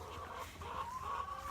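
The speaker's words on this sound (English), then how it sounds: "But that rooster back there" A rooster clucks and murmurs among farm chickens, a soft, continuous throaty sound at moderate distance, with no talk over it.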